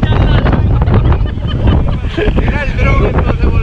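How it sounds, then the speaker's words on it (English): Strong, gusty wind buffets the microphone during a jet ski ride on the water in Puerto Rico, producing loud, continuous rumbling noise, with indistinct voices partly audible beneath it. "It's too windy over here."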